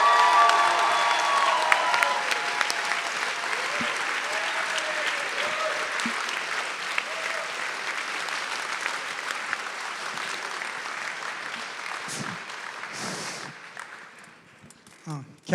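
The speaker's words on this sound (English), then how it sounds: "Please give him a huge round of applause." Sustained audience applause with some cheering fills a political rally hall, loud and dense at first, then thinning out toward the end as a few voices emerge.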